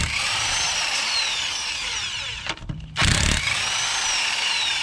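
A power tool whirs loudly and continuously while removing 17mm lug nuts on a 2009 Mercedes-Benz C300 3.0 V6, with a brief pause and a shifting pitch before the high whine resumes.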